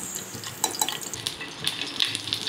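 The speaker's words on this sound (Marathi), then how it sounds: "इकडे आपण खसखस वगैरे भाजून घ्यायची अशी तव्यावरती, सर्व मसाले भाजून टाकायचे" Poppy seeds and spices are dry-roasted on a tava, with soft scraping and stirring scuffs, light sizzling and a few small metallic clinks, fairly quiet and close.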